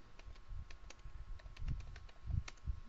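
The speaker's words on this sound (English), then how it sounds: "we have to open terminal and then we have to type" Quiet, close clicking of keys on a computer keyboard as terminal commands are typed, in short irregular runs with a faint background hum, with no talk.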